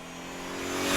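Porsche 944 engine with a louder, boosted exhaust note revs up in a single rising pull that grows steadily louder over a second, heard close with no talk.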